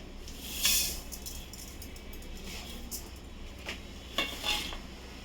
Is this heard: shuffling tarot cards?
no